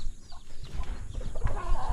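Chickens cluck and peck while being fed, the soft fowl calls and scratching close by over low background rumble.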